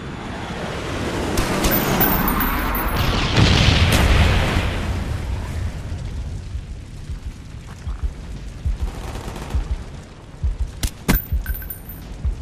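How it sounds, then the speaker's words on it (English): Deep, heavy bomb-strike blasts from Call of Duty Black Ops rumble in a swelling roar over the first few seconds, then die into a low distant rumble broken by scattered sharper thuds and impacts. "Bomb strike coming in."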